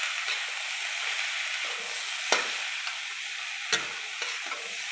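Cabbage fries in a pan with fried hilsa fish heads, a steady soft sizzle running under a few sharp scrapes and clicks of a spatula stirring and breaking up the heads.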